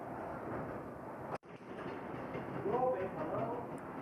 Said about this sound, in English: This is a DMU train on the Up-Maid line from the Brigg direction, travelling towards Barnetby Station and ultimately Cleethorpes.